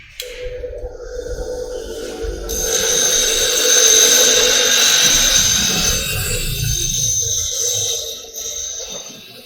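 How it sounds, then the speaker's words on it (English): A steady, high-pitched grinding whine from a machine running for several seconds, rising in intensity midway, with broadband hiss underneath. "Now, we will see demonstration of the grinding machine."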